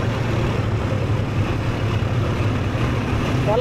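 Motorcycle cruising at over 70 on a ride filmed with a DJI Osmo Action camera: constant low rumble and broadband wind roar, steady and loud for the whole stretch with no talking.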